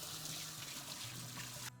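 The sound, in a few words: water running from tap while washing hands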